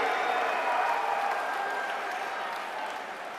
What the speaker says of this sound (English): I have never heard cheering this loud, even for Miguel Cabrera.